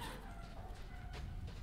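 Chickens clucking in the Resident Evil Village video game, a soft, steady fowl chatter at moderate distance over a constant low ambient game background, with no talk.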